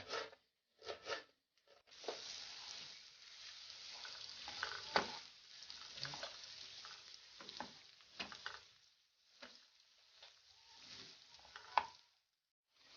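Onions and peppers sauté in a pan for borani, with a soft sizzle broken by irregular stirring and scraping strokes, quiet and close with short pauses.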